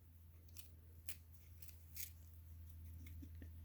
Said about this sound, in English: Turn it around and cut that also towards the middle.